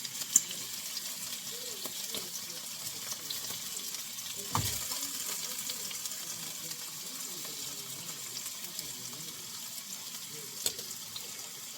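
Chicken, shrimp and sausage searing in a single layer in a pan, giving a soft, steady sizzle with a few small clicks and knocks.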